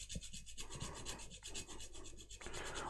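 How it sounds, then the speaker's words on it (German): A small handheld kitchen grater rasps against whole nutmeg in a home kitchen, with repeated short scraping strokes close up and fairly quiet, and no voices. "echt zum Muskatreiben ist die genial"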